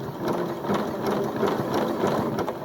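Sewing machine zigzag stitching fabric applique, a close, steady rapid mechanical chatter of the needle running continuously without pause or voices.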